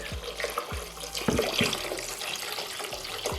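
Water poured into a soup pot of vegetables and meat for a broth, a close continuous splashing and trickling stream with a few clinks and bumps, and no talk.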